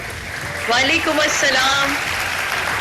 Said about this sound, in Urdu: آپ دیکھ رہی ہیں ہماری آڈینس نے تالیاں بجا کر استقبال کیا ہے آپ کا